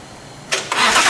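A 2017 Ford GT's twin-turbo V6 cranks and fires up with the engine compartment lid open: a short starter burst, then a louder catch that settles into a steady, close, full-bodied running roar.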